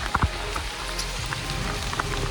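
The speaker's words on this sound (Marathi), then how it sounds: "पुढे पाऊस लय जोरात" Heavy rain falls steadily as a dense, continuous wash of noise, with a few louder drop hits near the start and no voices.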